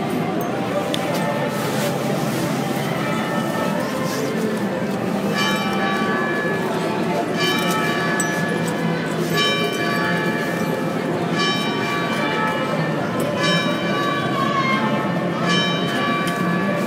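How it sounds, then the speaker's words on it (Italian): Church bells ring in Turin with steady repeated peals over a continuous, dense background wash, moderately loud and slightly distant throughout. "con il suono delle campane siamo qua a Torino"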